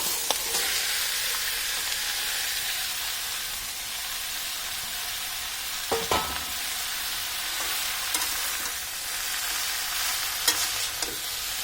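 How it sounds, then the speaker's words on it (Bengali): Crushed elephant apple (chalta) fries in a pan for pickle, a steady close sizzle with occasional scraping stir clicks and soft spatters, no talking. "এই থেতো করা চালতা যেগুলো আছে সেগুলো এখন আমরা এটাতে দিয়ে দিচ্ছি।"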